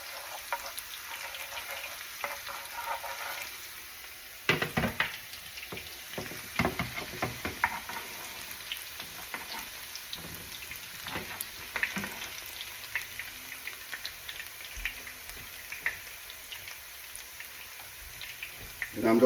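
Scallion sizzles in a little oil in a pan while cooking ackee and saltfish, a quiet, steady crackle with sharper pops after it drops in and occasional stirring clinks close by.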